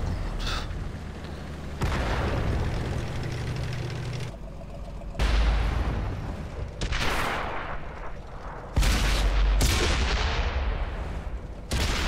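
Gunfire and cannon shots from a World of Tanks battle on Xbox One, with several loud booming blasts at irregular intervals over a steady engine rumble, each shot ringing out and decaying.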